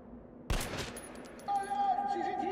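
Unsilenced gunfire in Metro Last Light Redux: a sharp burst of close shots cracks out, then ringing metallic tones and scattered echoes trail off in a quiet underground space.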